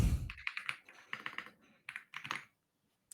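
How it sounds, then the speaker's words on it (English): Fast typing on a computer keyboard, bursts of rapid, crisp key clicks in quick runs with short pauses between them, close and fairly loud with no talking. "You're typing too fast. You're shredding your keycaps."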